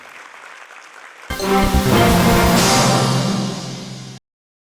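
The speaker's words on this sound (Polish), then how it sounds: "Wzruszeni rodzice mocno oklaskiwali swoje pociechy" Parents clap for their children at the close of a dance gala. Dense, loud applause breaks out suddenly, swells, and holds steady for about three seconds before stopping abruptly. Faint room murmur comes first.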